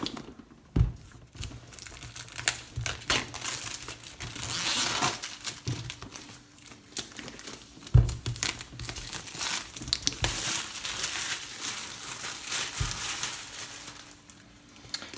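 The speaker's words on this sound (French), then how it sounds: "donc on va déballer ça" Packaging of a Lenovo Yoga Book tablet being opened, with steady crinkling and rustling throughout and a few sharper tearing or snapping accents, close up and moderately loud, with no talk.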